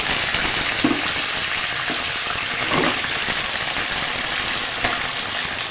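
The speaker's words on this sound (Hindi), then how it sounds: "अब हम इसमें ना चिकन को डाल के खूब अच्छी तरह फ्राई करेंगे।" Chicken frying in hot oil with garlic paste gives a steady, dense sizzle throughout, with a few soft stirring bumps and no talking.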